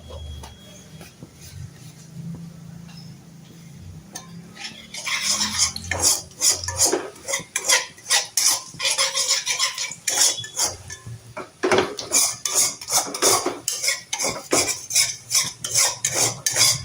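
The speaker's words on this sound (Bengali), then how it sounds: "সামান্য একটু জিরে ফোড়ন দিচ্ছি।" Cumin seeds temper in hot oil in a pan for cauliflower paratha: a quiet start gives way to loud, rhythmic scraping and clinking of a utensil against the pan over a crackling sizzle.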